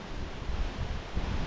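Steady wind buffeting outdoors at an opening-day sports event, a dense roaring rush with low gusty rumbles pressing on the microphone, loud and continuous for a brief moment.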